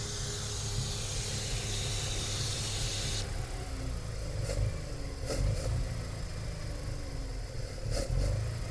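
A Mazda RX-7 rotary engine runs rough and struggles to idle after a fuel pressure regulator install, a steady close low rumble with hiss, broken by a few sharp ticks and pops.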